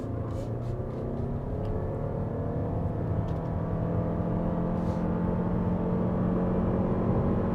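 Lexus RX 350h hybrid SUV accelerating hard, a steady, droning engine note holding at a high pitch with faint rising tones, heard continuously from inside the cabin with no talking.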